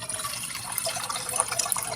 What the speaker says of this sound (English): So I put enough water here for 2 bowl servings.